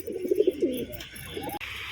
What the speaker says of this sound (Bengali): দুখানা পায়রা দেখিয়ে দিচ্ছি আপনাদের